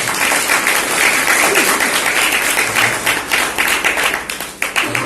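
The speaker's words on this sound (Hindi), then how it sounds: "लिए ताली बजाएं।" Church congregation clapping together in worship, loud, dense applause that carries steadily for several seconds before thinning slightly toward the end.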